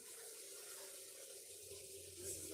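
Tap water runs steadily into a bowl, a soft, continuous hiss and splash heard from close range at low volume without interruption.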